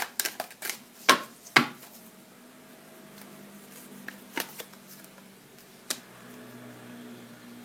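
Tarot cards being shuffled and drawn up close, with a quick burst of riffling snaps at first and then scattered soft flicks and taps as single cards are laid down, and no talking.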